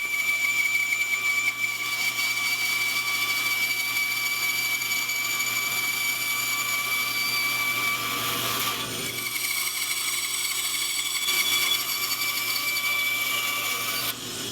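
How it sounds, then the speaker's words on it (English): A bandsaw cuts a mallet shape out of purpleheart wood, with a steady motor hum and a whining blade. A brief break comes partway through before the cutting resumes, fairly close and with no talk. "after I cut the shape out on the bandsaw"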